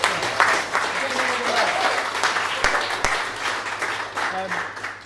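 Audience applause for Anne at a motivational speaking event: steady, dense clapping for about five seconds, with faint voices murmuring underneath.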